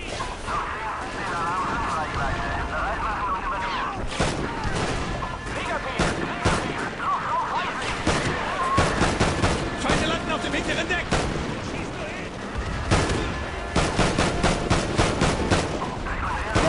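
Gunfire in the video game Call of Duty: Ghosts comes as repeated sharp shots and bursts, with automatic fire and crashing impacts, dense and loud throughout. Someone talks over the shooting at times.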